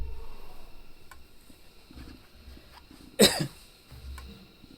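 A man with a winter cold gives one short, sharp cough close by in a quiet room, with a softer follow-up catch of breath; no speech.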